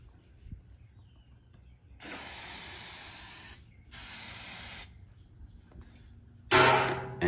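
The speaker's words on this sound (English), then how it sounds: "I'm just gonna spray a light coat on the door" An aerosol can sprays a light coat of oil onto the door of a 94-gallon offset smoker in three hissing bursts, two sustained and a final shorter, louder one, with quiet pauses between.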